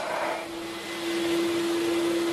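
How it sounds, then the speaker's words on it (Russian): A vacuum cleaner used as the extraction unit for a DLT 7232 sanding machine runs at maximum power, a loud, steady, close roar with a constant whining tone throughout. "просто включили пылесос, смотрим на максимале"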